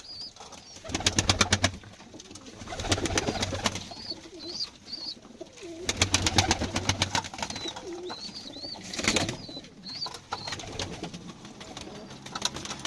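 Pigeons coo softly and continuously inside a coop, with a low murmuring chorus, bursts of wing flapping and rustling nearby.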